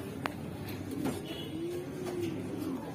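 Racing pigeons arriving home during a club race give soft, repeated low coos, a few close calls over a faint outdoor background with a brief chirp early on.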